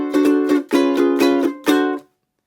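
Close, bright ukulele strumming in a fast down-up pattern, several quick chord strokes in short bursts that stop abruptly, with no talking.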